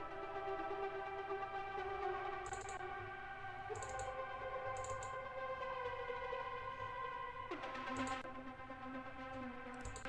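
LFO-modulated lead synth from a progressive trance production, sustained tonal lines with pulsing modulation over a dense, steady mix, changing pitch a few times with brief bright bursts, no talk.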